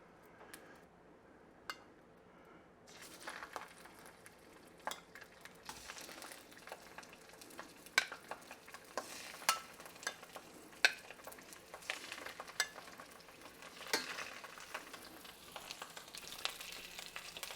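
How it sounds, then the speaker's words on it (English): Sausage browns in olive oil in a hot skillet, giving a soft, steady sizzle with scattered ticks and clinks of stirring and turning, faint at first and then fuller. "Next thing I'm going to do is brown up the sausage."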